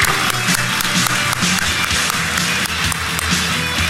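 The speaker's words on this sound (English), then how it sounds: "Let's give him a big round of applause." Audience at a Defcon security conference talk giving dense, continuous applause in a hall, steady and loud throughout.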